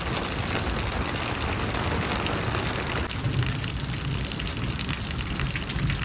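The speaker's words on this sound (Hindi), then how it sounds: "इतनी मूसलाधार तेज बारिश हो रही है" Torrential rain pours down in a village, heard from beneath an umbrella, as a dense, steady roar of water that stays loud and unbroken throughout with no voices.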